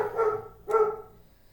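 A puppy gives two sharp barks about half a second apart, near and fairly loud, with a short fading tail after the second bark and no talk.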